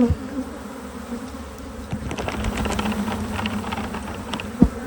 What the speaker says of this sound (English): Dump a million bees.